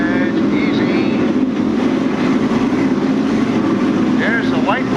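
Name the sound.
modified stock race cars racing at Riverside Park Speedway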